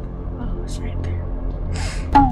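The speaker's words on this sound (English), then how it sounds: "You hear the breathing, right?" Heavy breathing in a horror video game set in a basement: a couple of soft, breathy bursts over a low, dark drone, ending with a sharp tonal sting.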